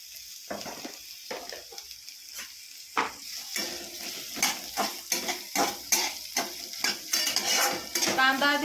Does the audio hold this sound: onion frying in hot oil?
yes